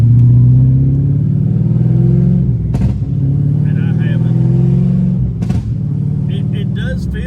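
A Chevrolet S10 truck engine fitted with a FAST LSXRT intake runs loud and steady with a heavy low rumble, swelling under acceleration, while a person talks briefly over it.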